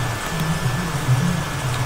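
Torrential rain downpour, a steady dense hiss of heavy rainfall with a low rumbling undertone, continuous and even, with no voices.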